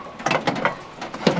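Hand unscrewing fittings on an RV folding faucet, giving a string of small metallic ratcheting clicks and scrapes at an uneven pace, close by with no talking.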